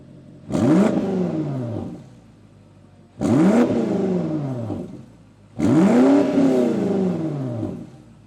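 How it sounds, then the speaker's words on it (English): Three loud BMW X5M engine revs through an Akrapovic exhaust, each a sharp rise then falling whine and rumble, separated by brief idle pauses; deep throaty exhaust roar up close. "let's hop in the X5M, give it a couple revs, maybe even a pull"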